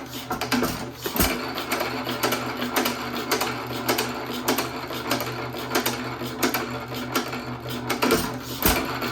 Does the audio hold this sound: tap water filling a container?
no